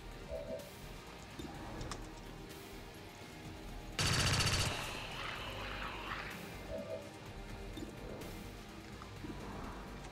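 Gunfire in the video game XCOM 2 comes as one loud, sharp burst of shots about midway, standing out against a steady low game ambience with faint bird-like calls.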